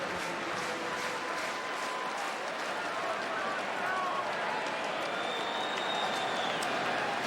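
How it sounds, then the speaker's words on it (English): Crowd at a Diamondbacks vs. Cubs baseball game at Wrigley Field clapping along, a steady wash of stadium noise with faint rhythmic claps and organ-like tones in the background. "Hey, everybody clap along."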